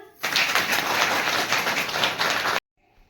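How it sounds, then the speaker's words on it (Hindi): Loud, dense applause from an audience at a talk on breastfeeding, a steady burst of many hands clapping that cuts off abruptly, leaving near silence. "जोरदार तालियां।"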